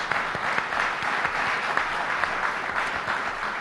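An audience at a panel discussion of former All-American Girls Professional Baseball League players claps for panelist Dolly Brumfield-White, a full, steady round of applause with sharp individual claps throughout.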